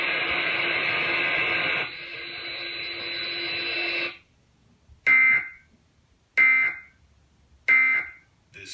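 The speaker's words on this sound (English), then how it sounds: "If this had been an actual emergency, official messages would have followed the alert tones" Emergency Alert System test tones on TV: a loud, steady two-tone attention signal lasting about four seconds, then three short, evenly spaced beeps with silence between them.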